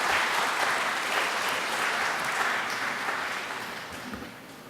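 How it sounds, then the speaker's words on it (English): An audience at a talk on technology and corruption in Caribbean societies claps after a presentation, a dense, loud wash of applause that holds steady and then slowly tapers off toward the end. "A round of applause for Dr. Waller, please, for an excellent presentation."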